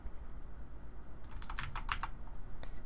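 Close computer keyboard typing of shortcut keys while modelling in Blender: a quick cluster of crisp keystrokes over faint room hiss, followed by one last isolated tap.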